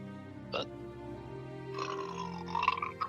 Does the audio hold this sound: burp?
yes